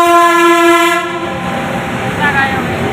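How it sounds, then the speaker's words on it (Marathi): A loud Mumbai local train horn blares for about a second, followed by the rumble and rattle of a train rolling into the station close by. "आली आता रेल्वे"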